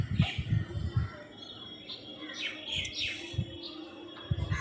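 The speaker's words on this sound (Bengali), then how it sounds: "আর এই যে দেখুন পাখি ডাকছে" A myna bird calls outdoors on a rooftop during rain, with scattered high chirps and whistles over low thumping noise and a faint background hum.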